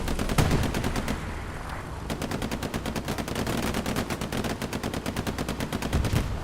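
Rapid automatic gunfire from the World War II shooter Hell Let Loose in a 49-versus-49 console match, sustained bursts of close, loud shots in tight rhythm with overlapping fire and brief gaps.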